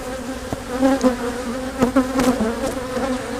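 Honeybees buzz in an opened over-wintered hive, a dense close droning hum that swells and surges unevenly, with occasional sharp clicks and knocks from handling the frames.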